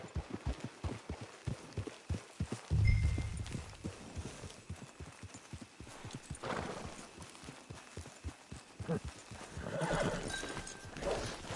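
A horse in a video game whinnies loudly near the start, then its hooves clop in a steady walking rhythm for the rest of the stretch, with a fainter neigh later on.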